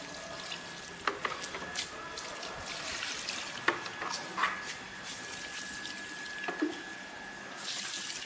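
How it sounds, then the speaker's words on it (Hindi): Leftover chemical-free car-wash water is poured from a container into plant pots as a steady, splashy stream with scattered drips and gurgles, running continuously at moderate volume with no talking. "चलिए इसके हम अब पॉट में डालते हैं"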